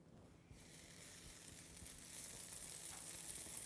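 Butter brushed onto a heated waffle maker sizzles, a soft steady hiss that swells gradually and stays fairly faint, with no talking.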